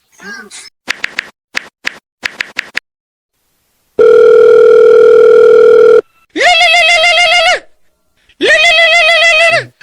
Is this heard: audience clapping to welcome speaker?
no